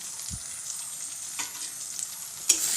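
Egg curry simmers and sizzles in a pan, a soft steady frying hiss with a few light clinks and scrapes of stirring, close and without any voices.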